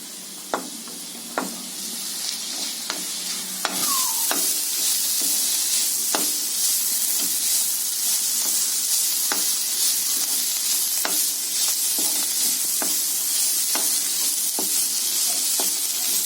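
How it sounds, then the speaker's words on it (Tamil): Stem amaranth greens stir-fried over a high flame, a steady loud sizzle that runs throughout, with scattered clicks and scrapes from stirring and no talking. "போட்டு நல்லா ஹை ஃப்ளேமில் வச்சு கிளறுங்க."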